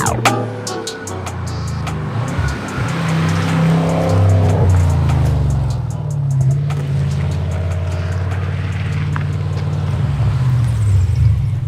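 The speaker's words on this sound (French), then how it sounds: "Il faut maintenant conclure l'essai de cette Audi RS7 Sportback préparée par MTM avec ce moteur de 1001 chevaux" A 1001-horsepower MTM-tuned Audi RS7 Sportback revs hard, a loud close engine roar with rising and falling pitch and crackling pops throughout, no talking.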